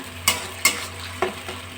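Spice masala fries in oil on a low gas flame for paneer dalna, a soft continuous sizzle broken by three or four sharp scraping stirs of a spoon in the pan.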